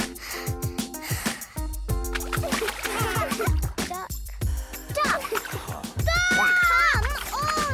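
Cartoon swimming pool race in a Hey Duggee video game, with repeated splashy paddling strokes amid bright game music, chimes and swooping sound effects, and a cheerful voice speaking.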